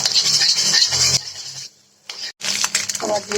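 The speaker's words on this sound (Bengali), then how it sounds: "ডিমটা একটু ভেজে নিব।" Egg frying in a pan with butter and oil, a steady bright sizzle broken by a short quiet gap, with stirring and scraping of a utensil against the pan.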